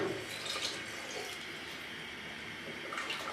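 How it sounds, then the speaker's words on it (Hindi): Water is poured into a pot of pumpkin curry during cooking, a soft continuous splashing and trickling that stays faint and steady for a few seconds with no talking. "अभी मैं इसमें थोड़ा सा और पानी शामिल करूँगी।"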